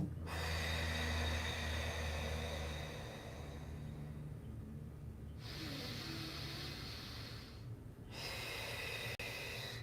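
Slow, deep yogic breaths during a live yoga flow session: long audible inhales and exhales through the nose, close and rhythmic with short pauses between rounds, no talking.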